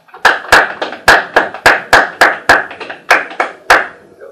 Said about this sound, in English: Round of claps.